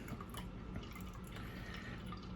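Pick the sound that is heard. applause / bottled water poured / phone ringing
bottled water poured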